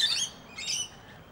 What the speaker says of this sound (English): I'm now getting parrots coming right around this side